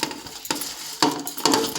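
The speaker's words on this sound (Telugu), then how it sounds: "అప్పుడు చేపకి పోపు" Hot oil hisses and sizzles as tempering spices hit the pan for a pomfret fish curry, with sharp stirring clatters at irregular moments, close and alone.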